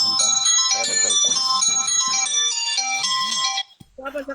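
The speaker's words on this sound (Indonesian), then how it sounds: "Saya ada telepon." A phone ringtone plays loudly and continuously as a steady, multi-tone melodic pattern, then cuts off near the end, followed by brief sounds of people nearby.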